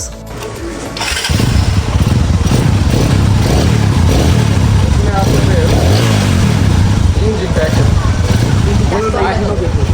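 A used motorcycle with a poorly running engine starts after about a second and settles into a loud, steady, rough idle close by, with talking mixed in.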